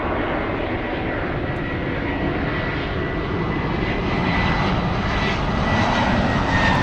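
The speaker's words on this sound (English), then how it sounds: "And there goes Alaska Airlines going to the south side," An Alaska Airlines jet airliner at LAX taxiing toward the south side, its engines giving a loud, steady roar that swells slightly toward the end, with no talking.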